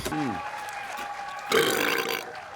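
A cartoon cat's burp in the Garfield movie, a foley effect, comes as a short, loud, gurgling belch with a falling pitch at the start, followed by a brighter, noisier burst later in the clip.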